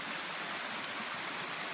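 Flooded creek water rushing steadily, a dense continuous wash that stays close and fairly loud for the whole stretch, with no voices over it.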